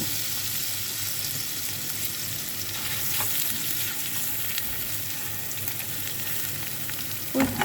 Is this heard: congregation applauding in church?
no